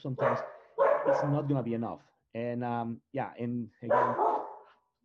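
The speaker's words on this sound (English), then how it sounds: "My apologies for the occasional barking that could happen during the webinar." Dogs bark intermittently in the background of a home webinar while a man keeps lecturing over them; the barks blend into his steady speech rather than standing out alone.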